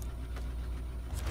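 Truck engine in SnowRunner running low and steady while reversing, a quiet continuous rumble with faint clunks, no talking.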